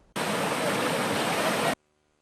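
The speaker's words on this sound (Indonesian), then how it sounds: "Meluncur bebas menuruni bebatuan dengan air yang mengalir deras di kaki Gunung Rinjani begitu menyenangkan" Water rushes swiftly over rocks at the foot of Mount Rinjani, a loud, steady broadband roar that starts abruptly and holds constant for about a second and a half before cutting off.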